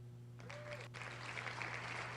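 Small applause plays from a video clip, a soft patter of claps that swells and continues under a steady background hum. A brief tone sounds at the start.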